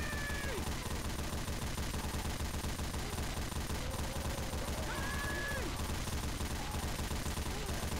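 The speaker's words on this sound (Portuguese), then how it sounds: "Tiro, tiro, tiro." Dense, continuous gunfire with rapid bursts over a steady noisy game soundtrack in Left 4 Dead 2, with faint tonal sweeps and effects throughout.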